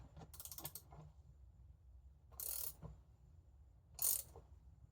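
Bolt being tightened on a Honda Shadow bobber motorcycle, giving three short bursts of metallic ratcheting and creaking, close and fairly loud, with quieter mechanical clicks between them.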